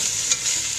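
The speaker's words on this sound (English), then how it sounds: "We're going to get a nice sizzle." Beef short ribs sizzle steadily in hot oil in a home kitchen pan, a close, continuous hiss with no talking.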